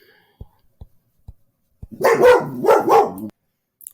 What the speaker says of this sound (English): Sorry for my jerk of a dog.